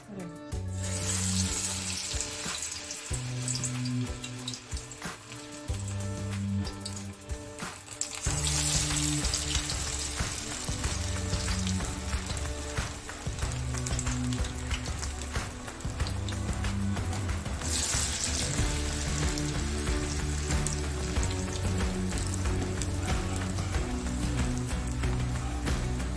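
Beetroot vadalu sizzle and crackle in hot oil, a steady loud frying hiss that runs the whole time alongside a low rhythmic hum in the kitchen.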